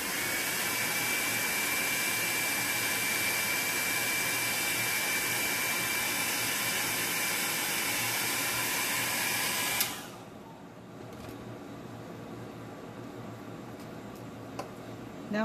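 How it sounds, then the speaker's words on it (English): Ranger Air Blower drying alcohol ink: a loud, steady hot-air roar runs for about ten seconds, then cuts off abruptly, leaving quiet room tone with a faint tick and a small click at the end. "I'll dry it. And dry it a little bit more."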